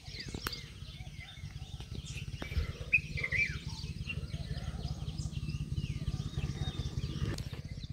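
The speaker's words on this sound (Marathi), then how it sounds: "गावाकडचं सकाळ सकाळचं वातावरण काही असं असतं की पुऱ्या पक्ष्यांचे आवाज वगैरे" Birds chirp and whistle at a distance on a village morning, faint scattered calls sitting over a steady low rumbling hum.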